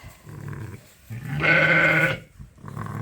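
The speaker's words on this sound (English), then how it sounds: "Lambs are pretty excited." Young lambs bleating on a sheep farm during lambing, a few short, near calls with one loud, drawn-out bleat in the middle and no talk.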